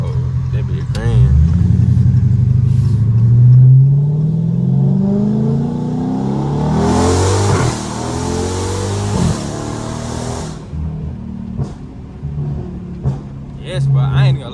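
A straight-piped widebody 2022 Dodge Charger accelerating hard, heard from inside as a loud, rising exhaust roar that climbs in pitch through the gears and then settles into a lower drone, with voices briefly over it.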